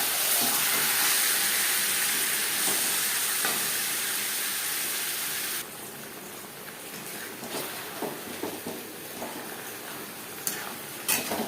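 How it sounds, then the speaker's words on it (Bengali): Chicken frying with onions in a pan for restaurant-style potato chicken curry: a steady loud sizzle and hiss that drops partway through, followed by softer stirring scrapes and crackles. "পেঁয়াজের সাথে চিকেন বেশ ভালো করে মিক্স করে দেবো"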